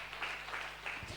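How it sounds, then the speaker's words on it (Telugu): A church congregation at a mega church claps together, a dense steady patter of many hands with a few rhythmic surges, fairly faint and continuous. "చప్పట్లు కొట్టి దేవుని మహింపరుస్తా"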